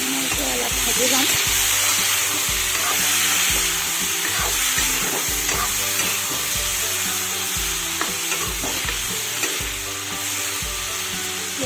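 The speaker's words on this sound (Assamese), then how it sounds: "এইখিনি মই এতিয়া অলপ ভাজি ল'ম।" Chopped tomatoes, onions, ginger and green chillies frying in a pan, a loud continuous sizzle with occasional stirring scrapes throughout.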